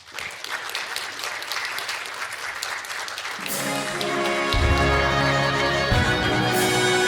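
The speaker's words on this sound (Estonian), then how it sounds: "Aplaus!" An audience applauds at a municipal awards ceremony celebrating Estonia's 103rd Independence Day, a full, sustained clapping that swells, then gives way to music.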